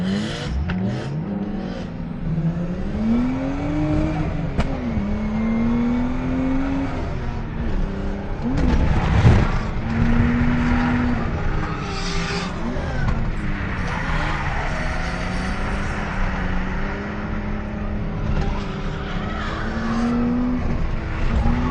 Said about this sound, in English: we are driving on the FD Japan layout for Nishi and an underpowered RB20 DET car